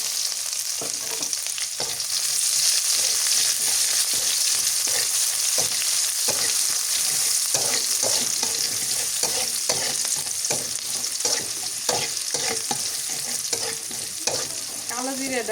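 Chopped onions with cumin and black cumin crackle in mustard oil, a steady loud sizzle broken by the repeated scrape and knock of stirring, with nobody talking.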